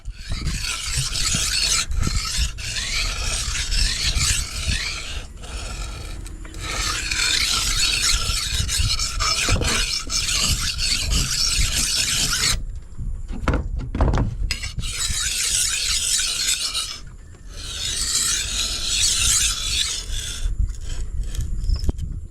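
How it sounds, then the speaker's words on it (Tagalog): A metal file rasps along machete edges and a grass cutter blade in repeated long, harsh strokes, close and loud, with brief pauses and clinks between bursts. "Masahin din muna natin tong mga itak tsaka ano, blade ng ng grass cutter."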